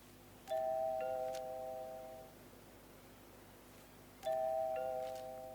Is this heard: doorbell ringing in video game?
yes